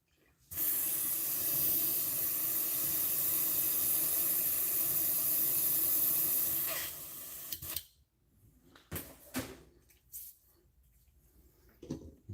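An airbrush sprays airbrush cleaner in a loud, steady hissing burst lasting several seconds, then cuts off, followed by a few short, softer puffs and clicks.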